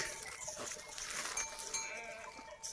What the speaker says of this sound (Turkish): Koyun geliyor gene görüyor musun?